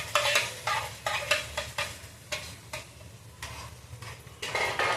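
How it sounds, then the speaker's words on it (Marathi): Soaked garden cress (halim) seeds are dry-roasted in a pan, giving repeated close scraping stirs with a spoon in a quick rhythm over a faint sizzle, with no talking. "हलीम थोडं भाजून घ्यायचं. असं भिजलेलं असतं ते भाजून घ्यायचं पूर्ण असं."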